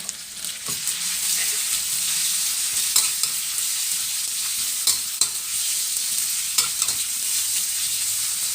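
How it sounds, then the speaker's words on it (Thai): Pork belly stir-fried with garlic in a hot pan: continuous loud sizzling with scrapes and clacks of a utensil stirring at irregular moments, close up and alone. "กระเทียมเริ่มหอมแม่นูนก็จะใส่หมูสามชั้นที่เราหั่นไว้ลงไปค่ะ ผัดหมูให้สุกจ้า"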